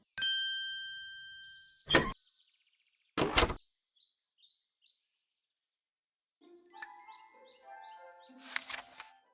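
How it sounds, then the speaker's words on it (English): A cartoon cottage door in a Little Red Riding Hood story opens on a pulled string, giving a bright ding, a few short wooden clacks and a sliding rattle, with light chirping birdsong in a quiet background. "Pull the string and the door will open."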